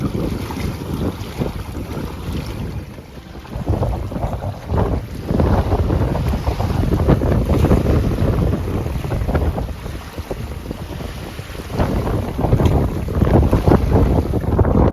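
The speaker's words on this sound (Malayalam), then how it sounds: "നല്ല കാറ്റാണ് കേട്ടോ ആ തടാകത്തിലെ തിരമാല കാണുമ്പോൾ തന്നെ നിങ്ങൾക്കറിയാം കാറ്റിൻ്റെ ശക്തി" Strong wind buffets the microphone in loud, roaring gusts by a lake in Northern Ireland, with rushing water and waves churning underneath throughout.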